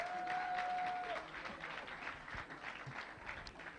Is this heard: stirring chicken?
no